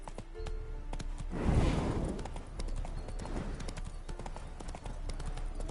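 Horse hooves clip-clopping steadily on ground in The Witcher video game, a close, continuous rhythmic trot that swells briefly louder midway, with ambient game sounds around.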